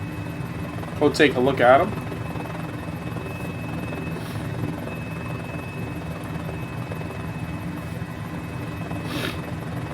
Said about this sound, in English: I have very little time in helicopters in Flight Simulator, but I've flown them off and on.